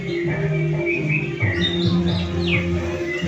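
A songbird on a hanging perch gives quick high, sweeping chirps over a steady tonal hum in the background.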